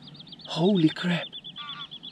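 Geese give two quick, close honks on a misty sunrise wetland, while a lapwing's wavering whistle runs behind them.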